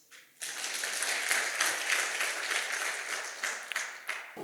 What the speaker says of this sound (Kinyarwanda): Ndabasaba ngo nabo mubaha amashyi